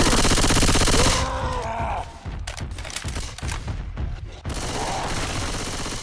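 Gunfire in the zombie shooter Left 4 Dead 2, a loud dense barrage of shots layered over game noise, fading briefly in the middle before another sustained burst.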